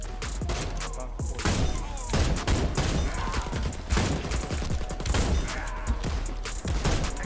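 Gunfire in the video game Warface, repeated loud shots and impacts in irregular bursts through the whole stretch, with clanks and thuds mixed in among the firing.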